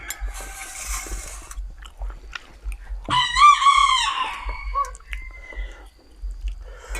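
A rooster crows once, loud and close, in a rural yard where chickens mingle, the call rising abruptly and trailing off amid scattered rustling, chewing-like noises and quiet background sounds.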